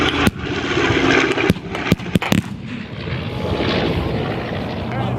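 An aircraft takes off at the 2015 Geneseo air show: sharp cracking bangs early on, then a steady, fairly loud engine roar, with a voice speaking over it.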